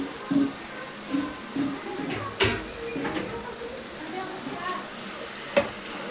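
Chicken liver sizzles faintly in a pan while being stirred in repeated scraping strokes for a Kerala chicken curry.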